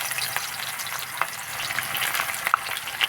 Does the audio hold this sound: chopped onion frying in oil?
yes